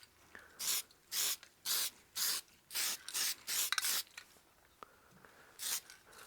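Spray lacquer hisses from an aerosol can onto a wood platter in a series of short, even bursts, about ten quick sprays with brief pauses, close and clear.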